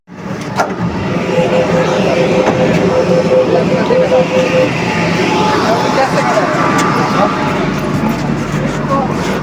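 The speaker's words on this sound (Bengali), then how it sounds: "মেট্রো আসতে আমরা উঠে গেলাম।" A Kolkata metro train arrives and runs, producing a loud, steady rumble and motor whine with a few brief clanks, and voices are heard beneath it.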